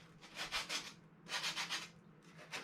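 Sandpaper scuffs a foam surface while a Dynam Focke-Wulf 190 RC foam warbird model is being assembled, in two bursts of quick, close, rhythmic rasping strokes with a short pause between them.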